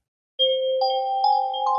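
Bright synthesized chimes from a trap music track ring out as sustained bell-like tones, with new notes entering one after another to build a rising chord, clear and loud with no voices.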